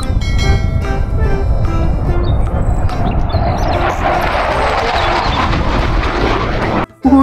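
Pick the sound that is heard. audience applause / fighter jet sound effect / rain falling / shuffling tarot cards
fighter jet sound effect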